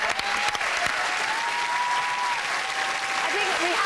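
A TV studio audience applauds in a dense, continuous burst of clapping. A voice cheers or calls out over it.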